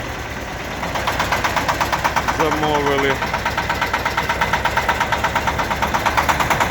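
A small Shifeng SF350L tractor engine idles with a steady, rapid knocking pulse, close by, while a person speaks briefly over it.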